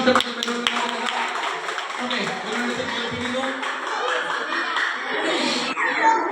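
Hands clap among a children's group at a church Vacation Bible School session, a steady patter of applause running under loud overlapping voices and chatter throughout.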